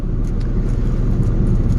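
A truck's engine idles steadily with the cab heater blowing, a constant low rumble and broadband hum close by, with no speech.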